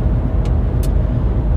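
Car cruising on France's Nationale 10 stuck behind a line of about fifteen trucks: a steady, loud low road and engine rumble fills the whole stretch, with two brief hissy bursts breaking through, and no voices.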